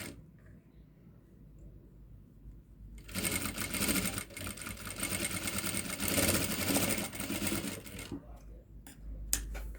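A sewing machine stitches lace onto cloth for a small dhoti. After a quiet start it whirs in a loud, continuous run for about five seconds, then stops.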